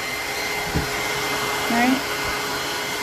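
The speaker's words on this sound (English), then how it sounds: "I'm going to grab my hair dryer, and I'm going to blow dry this" A hair dryer blows steadily throughout, a constant whooshing drone, with a brief spoken word over it.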